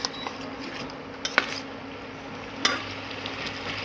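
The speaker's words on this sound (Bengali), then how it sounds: "এবার ভালো করে নেড়ে নেব।" Spices with turmeric and chili powder are stirred in a bubbling cooking pot, a spoon clinking and scraping against the metal in a few sharp knocks over a faint steady sizzle, close by and without speech.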